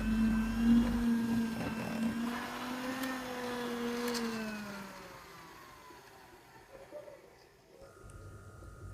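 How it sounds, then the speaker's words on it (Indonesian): An electric mixer beats margarine and powdered sugar for chocolate cashew cookie dough, giving a steady motor whine that is loudest at first and fades after about four seconds. "kalau margarin dan gula halus di mixer terlalu lama, maka adonan cookiesnya akan melebar saat dipanggang"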